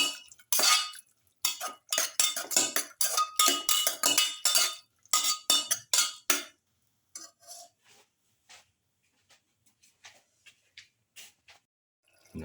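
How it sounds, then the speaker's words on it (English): A spoon stirs a lamb and cauliflower stew mixture in a pot, with rapid clinks and scrapes, busy and close at first, then thinning to sparse taps. "Thoroughly mix."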